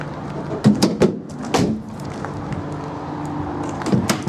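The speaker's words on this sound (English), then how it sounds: "Closing the back doors then" The back doors of a Nissan NV200 Acenta dCi van being shut at a garage forecourt: a few close, solid thumps and latch clunks in quick succession, then another clunk near the end, with no talking.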